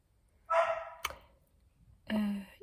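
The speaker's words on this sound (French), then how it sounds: "Mon chien n'est pas tout seul, hein, si vous vous demandez pourquoi il aboie vraiment" A playful puppy barks at close range, two sharp yappy barks about a second and a half apart with a brief bump of noise between, no talking.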